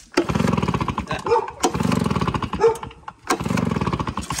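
A small pull-start engine, used on a horse farm, sputters to life in three rough bursts, each running briefly then dying, with pauses between pulls; close and moderately loud.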